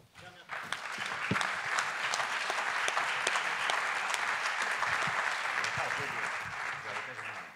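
Sustained audience applause at a mock trial debate, dense clapping from a large crowd that swells quickly and continues steadily throughout.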